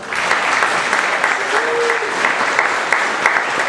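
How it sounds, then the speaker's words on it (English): Conference audience at a Scottish UFO and paranormal gathering in Glasgow applauds steadily, a dense, even wash of clapping that holds for the whole stretch with faint voices underneath. "Gary Heseltine, a big round of applause, please"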